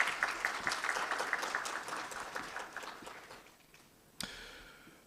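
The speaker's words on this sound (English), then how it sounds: "shall we do a big round of applause for him?" An audience at a launch event for a West African campaign against non-communicable diseases claps warmly, the dense applause tapering off over several seconds before one louder thump near the end.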